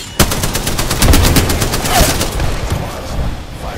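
Automatic gunfire in the video game Apex Legends: a rapid, evenly spaced stream of loud, close shots rattling for several seconds, easing slightly toward the end, with no talking.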